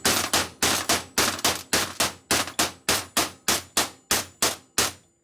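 A hammer strikes steel while a bearing is fitted into a Revtech shovelhead Harley transmission during a rebuild: about fourteen sharp, ringing blows in a steady, even rhythm, loud and close, with no talking.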